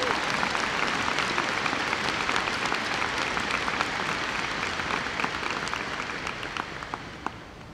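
An awards ceremony audience applauds honored teams with sustained, dense clapping from a large crowd, holding steady for several seconds before easing slightly toward the end.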